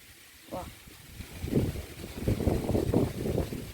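Outdoor wind buffets the microphone in low, rumbling gusts while someone talks over it.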